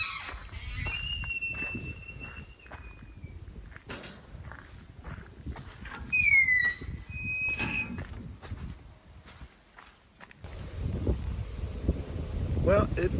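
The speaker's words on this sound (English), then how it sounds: "Well, it is a wee bit windy today." Wind blows outdoors at a deer enclosure in the Kommern game reserve, a steady low rumble against the microphone, with high animal squeals and some footsteps over it.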